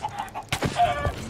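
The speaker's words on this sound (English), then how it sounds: "Oh my god, the chickens are attacking me!" Zombie chickens in Minecraft cluck and squawk in short bursts, close and loud, with a sharp flurry in the middle, no talking.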